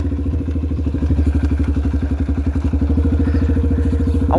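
A dirt bike ridden around a neighborhood gives a close, loud, pulsing engine throb at a fast even beat, with the revs rising slightly partway through.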